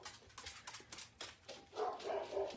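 A dog barks several times in quick, quiet bursts indoors, ending in a brief higher whining yelp.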